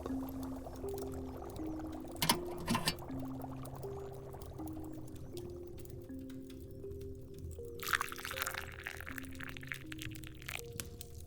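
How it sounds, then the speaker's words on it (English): A golden, honey-coloured potion is poured into a cup in a faint, quiet trickle that runs for several seconds over a soft steady hum, with a brighter splashy burst near the end. "Let's pour a cup."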